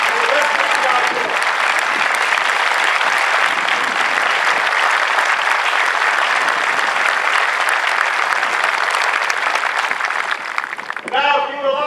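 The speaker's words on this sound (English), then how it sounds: "All of our MTIs, past and present, please stand. Give them a round of applause." Audience at an Air Force Basic Military Training parade clapping in a long, loud, dense round of applause that holds steady and then tapers off as a voice begins speaking at the end.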